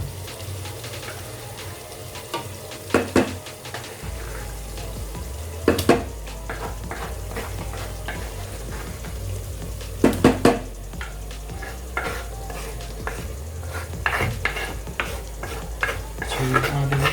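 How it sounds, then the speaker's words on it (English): Ground garden eggs being stirred into a pot of stew, with steady low simmering and sizzling underneath and several sharp clinks of a spoon scraping against the pot at intervals. "We're going to be adding our grinded garden eggs, and the stew is ready."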